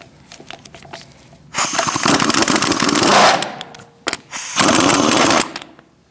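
An impact gun fitted with a 19mm socket rattles loudly in two long bursts while removing the hubcap and lug nuts on a Chevy Cruze, with softer clanks and handling noise before and between.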